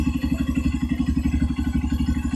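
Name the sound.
Honda CRF 150L motorcycle engine revving at high RPM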